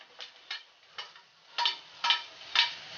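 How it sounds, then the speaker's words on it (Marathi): Capsicum being sautéed in a pan for sprouted moong cutlets, with a soft sizzle under a series of light scraping stirs that come about every half second and grow louder toward the end, close and quiet. "आता मी त्यात शिमला मिरची परतून घेणार आहे"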